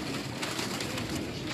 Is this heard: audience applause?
no